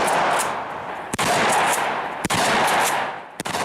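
Rapid automatic gunfire from a weapon, brass casings ejecting, comes as dense loud bursts close by, broken by a few brief sharp gaps over several seconds.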